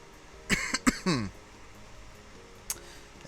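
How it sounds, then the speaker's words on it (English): A few sharp coughs, one person clearing and coughing twice in quick succession close by, followed by a faint click; no talk over it. "There's that cough again."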